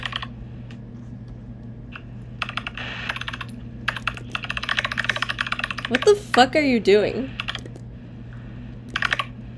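A computer keyboard clatters close by in quick bursts of typing, and a person talks over it.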